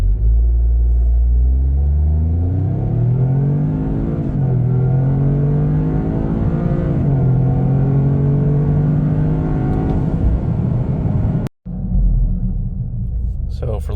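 A Toyota GR Corolla with an automatic transmission does a brake-boosted launch held just above 2,000 RPM, its engine rumbling loudly, then rising in pitch through the gears as it accelerates hard, with a brief cut near the end.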